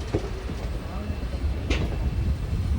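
The 22-coach Vasco da Gama Express rolls by with a continuous low rumble and rattling, a steady, fairly loud wash of rail noise with one sharp squeal midway.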